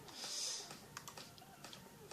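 Rapid typing on a new computer keyboard, a steady patter of close, crisp key clicks with a few louder strokes, heard alone.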